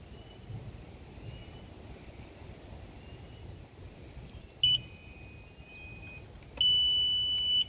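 Two electronic beeps from a remote control, each a sustained high tone about a second long, spaced a couple of seconds apart over windy outdoor noise.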